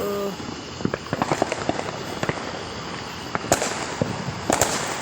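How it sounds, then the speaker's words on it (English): Rapid scattered Fourth of July firecracker pops, some sharp and close, others fainter, crackling irregularly over a steady background hiss with no talking. "it's a bunch of firecrackers being popped"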